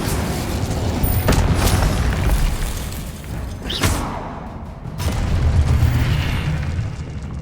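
Incendio fire spell cast in the Hogwarts Legacy video game: loud whooshing, rumbling fiery bursts with a booming burst near the middle and a sustained roar afterward, no talking.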